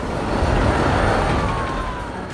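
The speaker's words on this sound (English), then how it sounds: "There we go with the train." A train rumbles past loudly in a Planet Coaster theme park, a broad roaring rush that swells and then eases slightly as it goes by.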